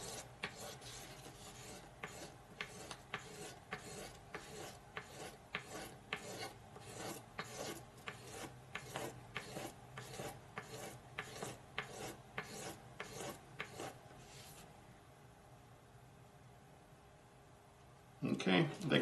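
A Cold Steel Frenzy III knife blade is worked across a fine-grit sharpening stone for a final polish, giving a steady run of rhythmic rasping strokes for about fifteen seconds, then a quiet pause and a brief louder clatter at the end.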